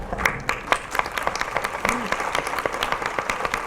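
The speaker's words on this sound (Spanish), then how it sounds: "Palmas para nuestra mesa, por favor" An audience applauds at a book presentation, Luis Llosa's 'Secretos de un latino en Hollywood'. Dense, steady clapping from many hands carries on without a break.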